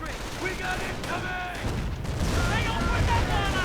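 Firestorm barrage in a WWII real-time strategy battle with Shermans, setting off mines and blowing up anti-tank crews: a dense, continuous rumble of explosions and crackling fire, loud throughout, with a voice murmuring beneath.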